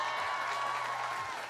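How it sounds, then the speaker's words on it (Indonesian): Audience applause for Robi Navicula at a crowded environmental-themed event in Bandar Lampung, a steady dense wash of clapping at moderate level with faint tonal sounds underneath, no speech. "Kita kasih tepuk tangan dong untuk beli Robi Navicula."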